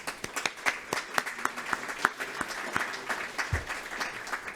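Audience applause at the 69th FAFA/VDFG congress in Nantes, a hall full of people clapping steadily with sharp overlapping claps throughout, a brief low bump near the end.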